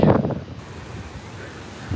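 Wind gusting in Edinburgh woods, a loud buffeting burst at first, then a steady breathy rush against the microphone.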